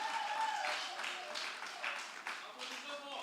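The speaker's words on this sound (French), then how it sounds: "Applaudissez pour le diacre Maurice." A church congregation applauds for a deacon, with scattered clapping that swells and fades over a few seconds, faint and somewhat distant amid voices.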